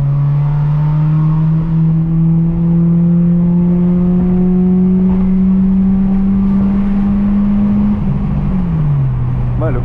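A Subaru Impreza with a sporty exhaust drones at a steady, loud pitch that climbs slowly, then dips near the end, close by, while people talk over it.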